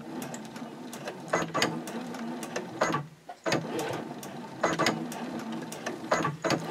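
Domestic sewing machine stitching lines on a small fabric DIY mini backpack card holder, rapid rhythmic mechanical chatter in several bursts separated by brief pauses for backstitching, close and moderately quiet, with no talking.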